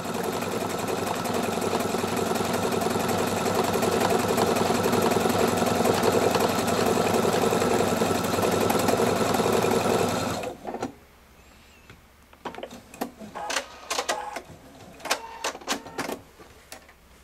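A Pfaff Performance 5.0 sewing machine stitches a big monogram letter, a steady loud mechanical whir with rapid needle rhythm for about ten seconds, then stopping into quieter clicks and small handling sounds.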